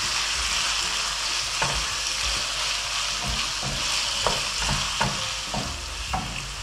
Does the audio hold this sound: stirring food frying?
yes